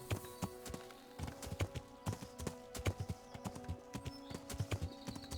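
Horse hooves clip-clopping in the video game Kingdom Come: Deliverance, a steady walking rhythm of distinct hoof strikes, moderately close, with a low game ambience underneath.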